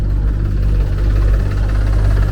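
Tractor and digger engines run together at a farmhouse roadworks site, a loud, steady low idling rumble with a faint knocking pulse, continuous throughout with no talk.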